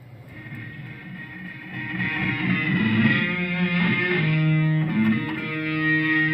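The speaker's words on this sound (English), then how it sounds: "Now that distortion that's coming from the H9" Sustained distorted electric guitar through an H9 effects pedal, thick and buzzy, with held chords and sliding notes ringing steadily throughout, fairly loud and close.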